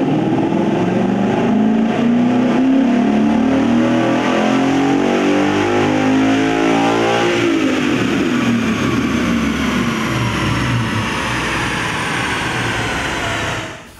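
A 2015–2017 Mustang GT 5.0L V8 with stock exhaust revs hard through a long wide-open fourth-gear pull on a dyno, its roaring pitch climbing steadily and loudly before cutting off abruptly at the end.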